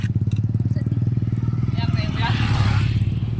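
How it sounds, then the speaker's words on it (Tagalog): A motorcycle engine idles and rumbles steadily close behind a group of cyclists on a road, its low throbbing drone continuous throughout while people talk over it. "Bantay na motor sa likod"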